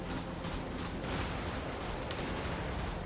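Cannon fire and explosions from the video game Brigador form a dense, continuous rumble of blasts and booming impacts, loud and unbroken, with no talking.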